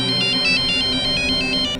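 A phone rings with an incoming call in a crime drama scene, its ringtone repeating in short regular bursts, loud and close over a steady background.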